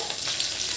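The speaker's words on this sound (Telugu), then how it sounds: "ఇప్పుడు కరివేపాకు వేసుకోవాలి" Curry leaves sizzling in hot oil with cumin seeds for jeera rice, a brief, even, close crackling fry with no voices.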